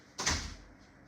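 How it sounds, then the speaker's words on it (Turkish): A door closing inside a home: one firm thud with a brief rattle that fades quickly into quiet room tone. "Anlaşılan kapı kapatmak durumunda kalacağım."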